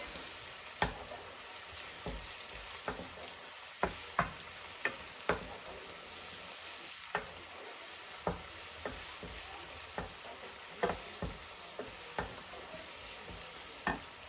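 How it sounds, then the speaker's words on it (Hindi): Garlic and onions frying in a pan for dam ka keema, a steady soft sizzle broken by sharp ticks and clicks of a spoon stirring against the pot, moderately quiet and close with no talking. "ये थोड़ा सा हमारा लहसुन भून जाए"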